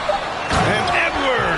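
A basketball slam dunk in the NBA 2K23 video game, a loud thump from the rim over steady crowd roar and a play-by-play commentator speaking.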